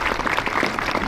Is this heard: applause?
yes